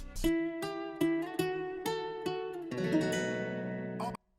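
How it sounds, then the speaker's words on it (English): A guitar intro from the original song, a run of evenly spaced plucked notes ringing clearly, ending in a longer sustained chord before it cuts off. "I only used the original song in the beginning because I wanted to keep this guitar intro that sounds like this."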